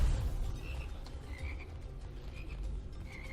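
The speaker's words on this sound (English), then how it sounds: "We got frogs." Frog enemies in the shooter Immortal Redneck croak repeatedly in short, steady bursts over a low game rumble, several calls overlapping at moderate loudness with no talking.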